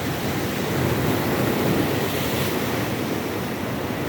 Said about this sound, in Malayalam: വലിയ തിരമാലകൾ വരുന്നു